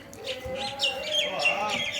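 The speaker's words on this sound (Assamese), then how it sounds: "ইমান ধুনীয়া চৰাই মাত ইয়াতে" Several birds chirp and tweet in short bright bursts over a steady low background hum, fairly close, with no one talking, at the Chardham temple in Sikkim.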